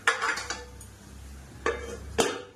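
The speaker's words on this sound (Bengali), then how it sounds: "এবার এটা ঢাকা দিয়ে দেবো" A lid goes onto a pot of chicken curry with clattering metal knocks, a brief cluster of clinks at the start followed by two sharp clanks later, close and moderately loud with no talking.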